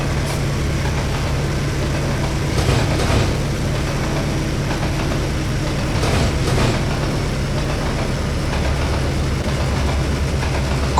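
A long 27-car freight consist being hauled: a constant heavy rumble of engine and rolling wagons, with faint clanks rising through the drone now and then.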